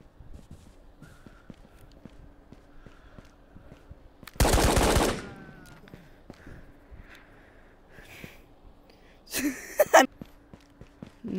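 Gunfire in the Tabor video game: a loud, sharp burst of shots stands out against quiet background noise, followed several seconds later by a second, shorter crackling volley.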